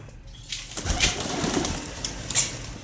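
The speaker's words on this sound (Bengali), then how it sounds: "এটা পায়রার ঘর" Soft pigeon coos come and go from a village pigeon house against a faint outdoor background, with a few brief rustles that may be wings.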